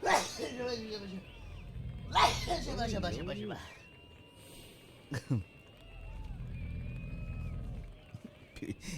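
A character in the video game Yakuza: Like A Dragon sneezes once, a sharp burst near the middle, while other voices talk before it and a low rumble runs underneath.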